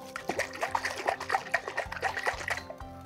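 A calm jar of water and glitter being shaken, giving off a rapid run of sloshing, rattling pulses that stop after about three seconds.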